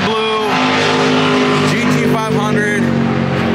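A Grabber Blue Ford GT500 fitted with a VMP ice tank and JLT cold air intake, its engine roaring loud and steady at a drag race, with someone talking over it and a brief tire squeal.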